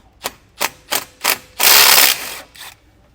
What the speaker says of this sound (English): it's a 9/16 socket. pull all these off.